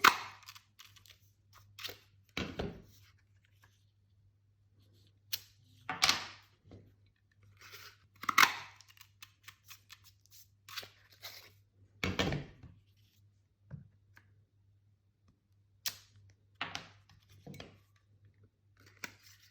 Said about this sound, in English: we're gonna stamp my little half umbrella on my printed paper and punch him out